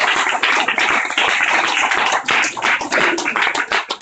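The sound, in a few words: audience applause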